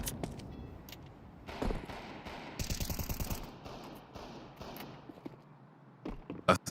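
Pistol gunfire during a Counter-Strike esports match, bursts of rapid shots and scattered single cracks over quiet game ambience, moderately faint and without talk.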